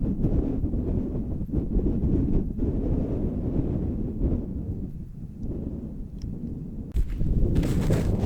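Strong wind roars steadily on a snowy winter mountain among trees, a dense, low, buffeting rush against the microphone with no talking.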